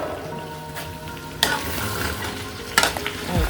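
Lamb meat and two medium tomatoes fry and get stirred in a pot, a steady sizzle with scraping stirs around the midpoint and near the end, close and moderately loud.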